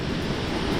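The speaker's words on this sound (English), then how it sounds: "All this water that's leaking through this dam wall here" Water seeps and gushes through an old dam wall, a dense, steady broadband rushing like a small waterfall, loud and unbroken for a brief moment with no voices.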